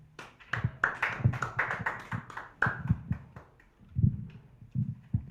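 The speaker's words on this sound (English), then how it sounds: "Another round of applause for MTN" Scattered clapping from a small audience at a press conference for a charity run, uneven hand claps of varying loudness and a few taps, fairly close with no voices.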